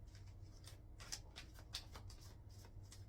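Oracle cards shuffled and drawn by hand, giving a steady papery riffle with repeated soft slaps and flicks, close and quiet over a low background hum.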